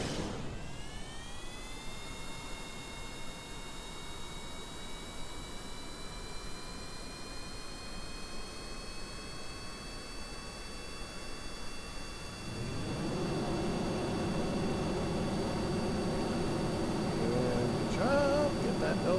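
An X-plane jet engine in Kerbal Space Program RP-1 roars with a steady broadband rush, then swells louder and fuller as the throttle comes up partway through, with rising whining tones above the noise.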